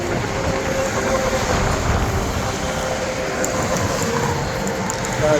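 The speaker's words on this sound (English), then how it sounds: "we can see the railroad cars crossing over Highway 41" Railroad cars rumble past crossing over a highway in a steady, continuous roar with faint rhythmic clatter, loud and close throughout.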